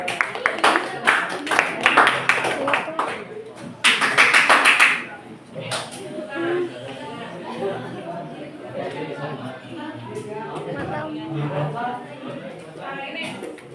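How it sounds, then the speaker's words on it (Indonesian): A group of people claps their hands in a classroom, starting with a burst of scattered claps that grows denser and then fades into chatter and voices. "Tepuk tangan dong."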